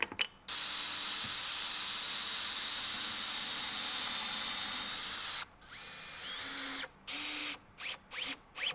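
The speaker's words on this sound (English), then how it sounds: "Special type of drill bit that drills a pilot hole and then counterbores the top for a plug." A drill bit bores a pilot hole and counterbores its top for a plug, part of building a shelf for Lego and Gundam models. A loud, steady whine runs for about five seconds, then several short bursts follow.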